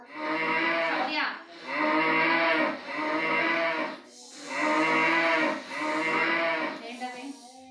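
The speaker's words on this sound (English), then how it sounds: "It's a cow." A cow mooing in several long, loud, drawn-out lows separated by brief pauses, close and clear with little else around.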